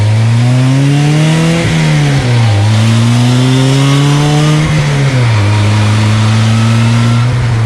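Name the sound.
DF Goblin street legal go kart engine accelerating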